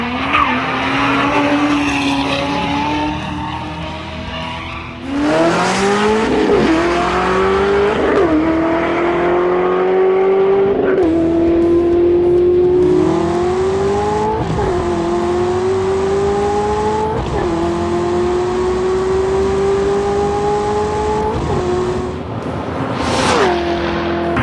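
A C6 Corvette ZR1 driving hard, its engine revving up through the gears in rising sweeps with tire squeal and skidding, loud and close, with no talking over it.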